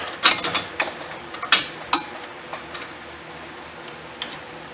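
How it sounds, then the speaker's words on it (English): A 14mm wrench working a power steering pressure line on a 1999-2004 Honda Odyssey, heard as a quick run of close metallic ticks and clicks that thin out to a few faint taps. "I'm going to try to bend this with a 14mm wrench."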